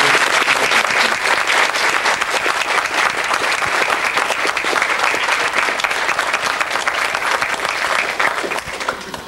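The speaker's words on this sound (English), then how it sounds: "I would like for you to give them one more big round of applause," A large audience applauds loudly and continuously for performers. The dense, steady clapping fills the whole stretch and eases slightly only at the very end.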